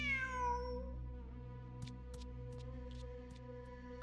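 A cat meows in a video game: one drawn-out meow at the start, then steady tonal background music with a few faint ticks, and no talk.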